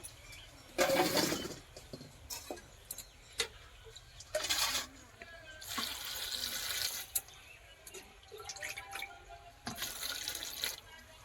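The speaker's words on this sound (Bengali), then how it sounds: "এই কুলগুলোকে আমি ভালো করে জলে ধুয়ে নেব।" Jujube fruits are washed in water for pickling, with intermittent splashing and swishing bursts close by and quieter dripping and rinsing between them.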